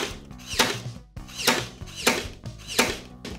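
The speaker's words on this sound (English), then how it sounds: "only use a power stapler if you are with a grown-up" A power stapler fires in a steady series of sharp mechanical thunks, four close, loud shots in even rhythm, each with a brief whir between them.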